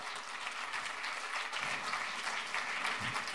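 Audience applause during a political speech at an anti-euro rally in Milan, a sustained, even patter of many hands heard from a distance and fairly faint.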